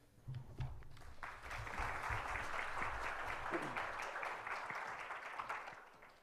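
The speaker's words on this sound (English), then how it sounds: "I love when people clap at the beginning because it feels like the pressure's on." An audience at an Oregon courts presentation on trauma-informed care bursts into applause, a dense wash of many hands clapping that swells quickly and holds steady for several seconds before thinning out.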